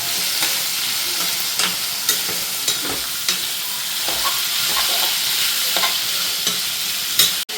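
Clam meat stirred and fried in oil in a pan, a steady close sizzle with repeated scraping stirs throughout and a sharp clatter near the end.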